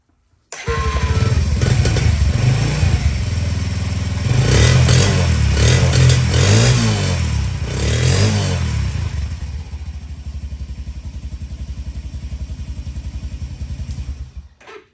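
A Honda TRX90 ATV engine with an HMF aftermarket exhaust idles and revs in rough bursts with a raspy, loud exhaust note, then settles into a steady idle before cutting off.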